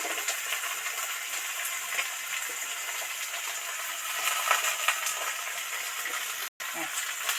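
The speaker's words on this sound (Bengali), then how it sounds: "সিম কড়াই তো ভাজা ভাজা হয়ে এসছে, এবার এই সিমটা ওর মধ্যে উঠিয়ে দিচ্ছি" Flat beans fry in a wok over a village-style fire, giving off a continuous dense sizzling hiss at an even level. The frying breaks off for a moment near the end, and no one speaks.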